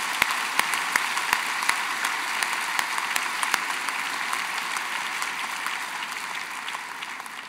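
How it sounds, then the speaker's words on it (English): A large university commencement audience gives a sustained round of applause, a broad, even roar of many clapping hands with a few sharper nearby claps standing out early, fading gently toward the end. "Let's give Mary a round of applause in absentia."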